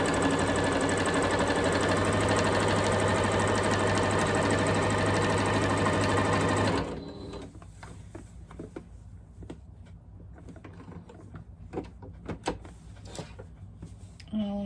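A sewing machine stitches the seams of a quilted Christmas stocking, running as a loud, steady whir for about seven seconds before stopping abruptly, followed by quieter clicks and rustles of fabric handling.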